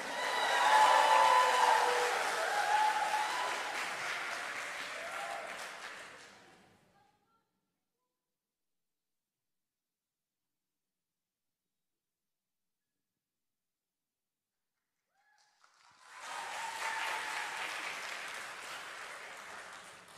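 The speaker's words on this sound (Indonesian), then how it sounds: "Marilah kita sambut dengan tepuk tangan kontingen yang selanjutnya, kontingen dari Sulawesi Utara." Audience applause for a children's choir contingent from Sulawesi Utara at a national choir festival, a broad burst of clapping that fades out, followed by a long silence before a second round of clapping rises again.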